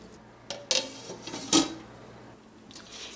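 Carrots and cabbage stirred together in a pot for chicken hot and sour soup, with a few sharp metallic clanks of a spoon against the pot amid quieter shuffling.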